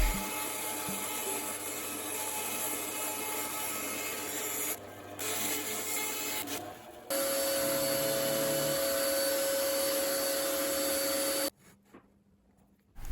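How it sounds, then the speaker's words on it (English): Belt sander smoothing a curved MDF table leg, a steady whirring drone with a rasping abrasive texture that pauses briefly and resumes before cutting off near the end. "it was finessed with a belt sander"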